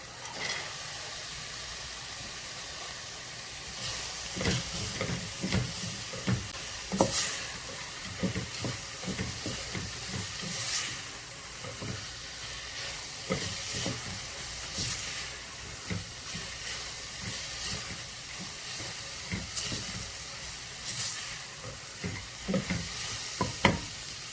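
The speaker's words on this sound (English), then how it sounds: "Now I'll be adding the toasted walnuts that we toasted and peeled" Toasted, peeled walnuts go into a pan of onions frying with garlic and ground coriander, bringing a steady sizzle with repeated scraping stirs and clatters of a spoon, close and continuous with no voices.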